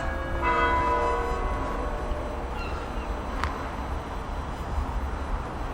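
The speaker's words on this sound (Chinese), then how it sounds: "我很喜欢听这种钟声" A bell chimes in the distance through foggy outdoor ambience, its ringing tones fading slowly over steady low background noise.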